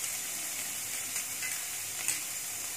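Cabbage, carrot, French beans and onion sizzle steadily in a pan on low flame for a lemon coriander soup, with occasional soft stirring scrapes; continuous and close, no talking.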